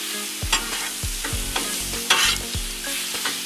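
Meat and veggies cook on a Blackstone griddle, a strong steady sizzle broken by repeated scraping, tapping spatula strokes in an uneven rhythm, close and loud with no talking.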